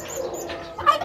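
A turkey gobbles briefly among farm poultry in a rural province yard, a short rattling call at moderate distance ending in a louder burst, with no talking.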